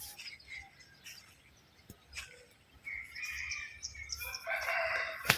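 A rooster crows in the distance in the early morning, its call rising near the end, with other birds chirping faintly around it outdoors.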